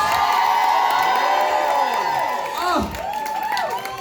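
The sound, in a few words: crowd cheering and applause at drag awards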